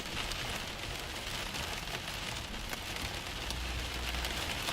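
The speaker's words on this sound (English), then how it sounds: "Look at all that hail right there." Continuous heavy drumming of hail in a thunderstorm near Alta Vista, Kansas, a loud unbroken rattle with faint sharper impacts scattered through it.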